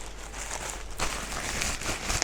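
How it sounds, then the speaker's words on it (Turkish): Soft crinkling of a plastic bag, close by, a steady rustle that grows a bit busier partway through. "poşet sesi yapalım şöyle"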